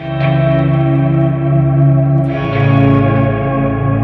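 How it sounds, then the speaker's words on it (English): A sustained, swelling electric guitar tone through a POG octave pedal and Big Sky reverb pedal, with rich, organ-like harmonic layering and reverb, rising gently in volume with no talking. "It sounds like a big organ."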